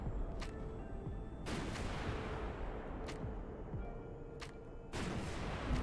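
Gladiator MRL rocket launcher firing in the game Highfleet, a few loud bursting launches spaced about a second or more apart, each trailing off into a dense rumbling wash.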